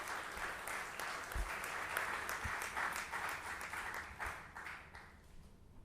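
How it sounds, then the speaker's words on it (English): Round of applause from an audience at an impact creators event, steady dense clapping that holds for the whole stretch with a few louder individual claps near the microphone. "I would like to request audience to give a big round of applause for him"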